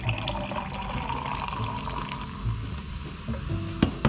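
Watermelon-flavored energy drink pours from a can into a glass already holding other flavors, a steady close splashing and gurgling stream that trickles off toward the end.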